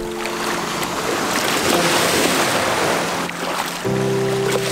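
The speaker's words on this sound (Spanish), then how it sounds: "Sí hay olas, pero pues bien leve." Gentle sea waves washing at the beach of Isla de la Piedra in Mazatlán, a steady soft surf wash with wind noise, close and continuous, with a faint steady hum entering near the end.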